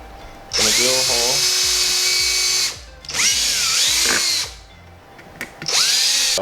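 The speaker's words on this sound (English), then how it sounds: "Just need to drill some mounting holes." A power drill whines loudly in three long bursts, spinning up and biting into aluminum while drilling mounting holes, with short pauses between and faint voices in the background.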